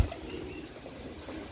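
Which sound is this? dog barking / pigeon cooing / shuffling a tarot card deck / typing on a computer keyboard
pigeon cooing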